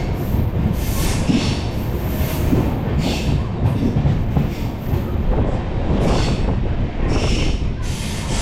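A crowded Mangala Express passenger train rolls along, a loud continuous rumble with rhythmic clickety-clack and hissing rail noise, heard from inside, steady throughout with no talk.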